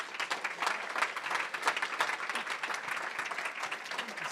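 An audience welcoming author Rob Edwards at a library event breaks into steady applause, moderately distant and even, without a break.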